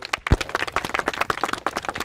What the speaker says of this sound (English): please give her a round of applause as she comes to the